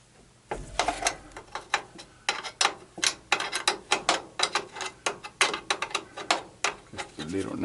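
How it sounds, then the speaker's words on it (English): Metal wrench clicks and ticks against a 7/16 nozzle nut on an oil burner, a rapid irregular series of sharp close taps and ratcheting knocks lasting throughout. "For that, you need a 7/16 wrench."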